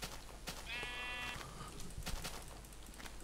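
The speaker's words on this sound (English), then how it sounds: "Bloody sheep didn't give me enough. I need one more sheep." A sheep bleats once in Minecraft, a short wavering call over steady game background noise, with scattered clicks and tapping sounds around it.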